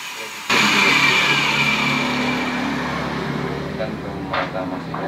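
A grinder whirs steadily as a Suzuki Satria FU valve stem is ground flat after being cut on a lathe, a loud continuous motor drone that starts abruptly and holds throughout, with a couple of brief scraping bursts near the end.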